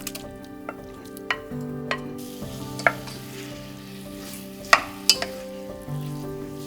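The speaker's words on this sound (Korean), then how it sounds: "고기는 밑간을 한 뒤 10분 동안 뒀다가 참기름을 두르고 볶아준다" Seasoned meat stir-frying in sesame oil, a steady crackling sizzle with occasional sharp clinks and scrapes of the utensil, close and clear with no speech.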